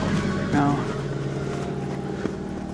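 A Nissan Sentra's exhaust drones at a steady idle shortly after a cold start, a continuous low engine hum heard close with no talking.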